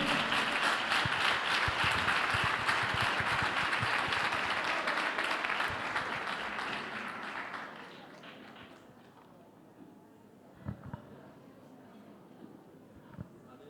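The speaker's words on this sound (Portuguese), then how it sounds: "Vamos aplaudir ao Senhor?" A church congregation claps in sustained, dense applause that runs loud for several seconds, then tapers and fades into a quiet room with a few stray claps.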